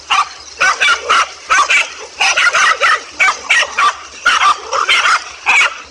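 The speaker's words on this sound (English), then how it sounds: "this king cobra managed to get in trouble with a pack of 5 dogs" A pack of five dogs bark furiously while fighting a king cobra, rapid overlapping barks in loud bursts with short gaps, close and continuous throughout.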